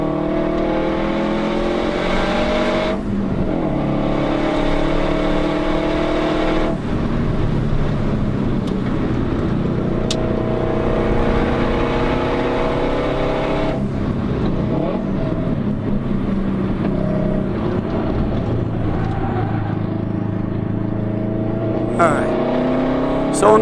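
Race car engine revving hard on a circuit at Carfest, loud and continuous with rising and falling pitch sweeps as it accelerates, with gear shifts at intervals, heard from inside the cabin.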